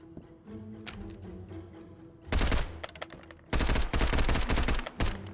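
Full-auto gunfire in the survival shooter Road to Vostok, with two loud sustained bursts of rapid shots, the second longer, after quieter ambient game sounds.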